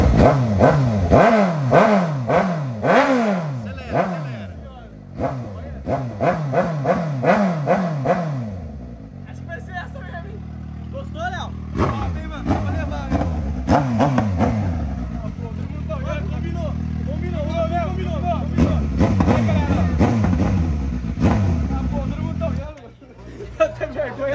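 A 2021 motorcycle at a dealership sales fair is started and revved hard, with loud, repeated rising-and-falling engine bursts at first, then settling into a rough idle with occasional revs while people talk nearby.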